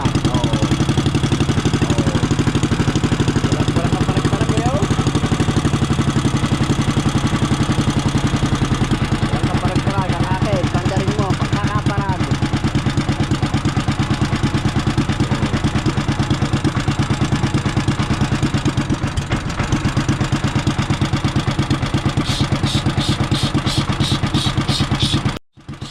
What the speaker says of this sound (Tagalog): Ayat amandar ang makina ni Idol.